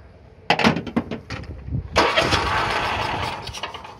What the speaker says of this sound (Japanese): エンジンをかけてテストしてみたいと思います。